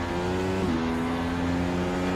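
McLaren MP4-30 Formula 1 car at Interlagos in the iRacing sim, a steady high engine drone with one quick upshift pitch drop midway, continuous and loud with no voices over it.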